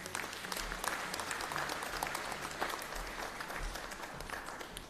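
Steady applause from a graduation ceremony audience cheering the graduates, a dense continuous wash of clapping held at an even level throughout, with no voices over it.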